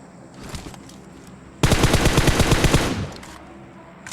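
Sustained burst of automatic M416 rifle fire in a PUBG-style battle royale game, a loud rapid rhythmic rattle lasting about a second and a half, with quieter game ambience before and after.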